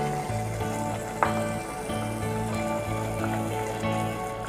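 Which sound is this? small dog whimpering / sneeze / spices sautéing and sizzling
spices sautéing and sizzling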